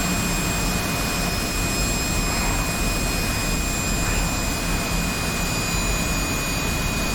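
Steady roar of an F-84 jet engine in War Thunder, a loud continuous broadband rush with a fixed high whine, unchanging throughout with no talk.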